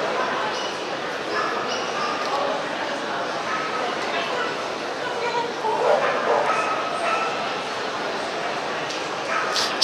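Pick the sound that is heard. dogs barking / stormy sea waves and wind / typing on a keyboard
dogs barking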